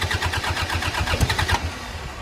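An old tractor engine over thirty years old cranks repeatedly without catching, a steady rhythmic churning of the starter that is close and fairly loud. Near the end it cuts off.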